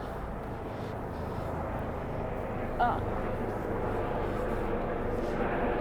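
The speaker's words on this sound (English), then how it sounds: "that's an ambulance helicopter, which is never really a good sign" A steady low rotor and engine drone from an ambulance helicopter passing over Stockholm, fairly distant and even, with a brief faint knock midway.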